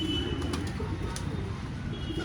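A three-year-old male pigeon cooing softly amid low background rumble, a few brief calls over a steady noisy bed.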